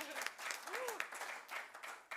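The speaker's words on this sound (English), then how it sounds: "Yeah, we can clap. Let's clap." A small audience at a design presentation claps briefly and lightly for a couple of seconds, with a few voices mixed in.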